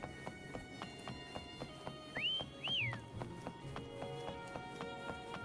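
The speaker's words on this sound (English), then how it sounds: "Why don't you call Foam over? Try whistling." Whistle calling a horse in the video game Wuthering Waves: two rising and falling whistled tones over a steady game music bed, with faint hoof clip-clop and rustling underneath.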